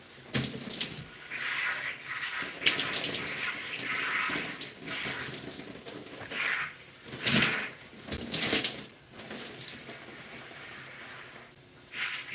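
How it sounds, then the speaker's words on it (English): Tap water runs and splashes unevenly as conditioner is rinsed out of gray natural hair, the flow steady and close with shifting bursts as hands move through it; no talking. "rinse the conditioner from my hair"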